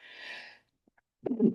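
A single sharp sneeze bursts out after a short hissy intake of breath, close and brief, then silence.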